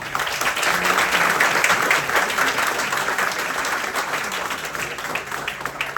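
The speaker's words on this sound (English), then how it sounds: "That requires a round of applause" Crowd at a tourism competition for secondary schools in the British Virgin Islands applauds, a broad sustained wash of many hands clapping, loud and continuous, fading slightly toward the end.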